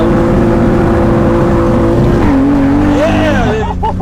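An M3-powered BMW E30 roars through a clutch kick, its engine holding a steady high rev before dropping and surging as the tires break loose into a brief wavering squeal; close and loud, with voices nearby.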